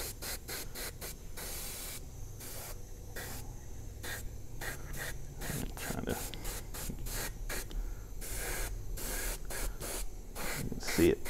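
AirCobra airbrush by Mig Jimenez spraying Ammo paint in short, rapid hissing bursts, close and repeated in an irregular on-off rhythm, with some brief longer sprays.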